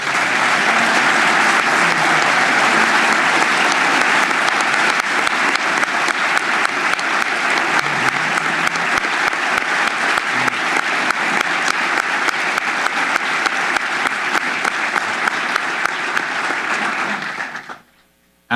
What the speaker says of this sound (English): please join me in giving these individuals a big round of applause